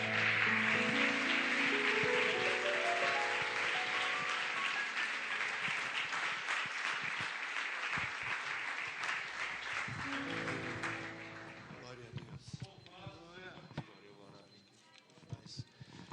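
A church congregation claps along during worship while sustained music and singing play at the front. The clapping fades partway through and leaves sparser sounds near the end.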